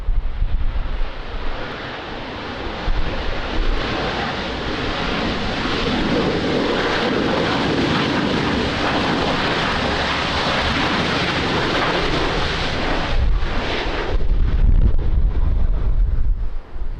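A jet airliner roars down a runway at Lisbon Airport in rainy weather, loud and sustained broadband engine thrust with wind buffeting for about seventeen seconds, no voices.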